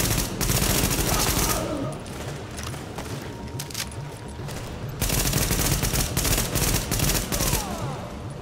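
Gunfire in the video game The Division, loud rapid bursts of automatic fire in two long stretches with a quieter gap between, crackling and dense.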